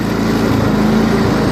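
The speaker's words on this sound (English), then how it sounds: "It's a nice day for our lawnmower drive." A John Deere riding lawn tractor, its engine rebuilt with a new ignition, magneto and carburetor, drives across a baseball field with a steady, loud, unbroken engine drone that holds close throughout.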